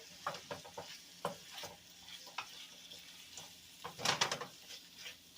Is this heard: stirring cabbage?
yes